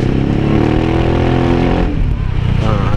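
Yamaha XMAX 250 scooter running with an aftermarket Smoke Muffler exhaust: a loud, close, deep engine drone with a rev change partway through, with someone speaking over it.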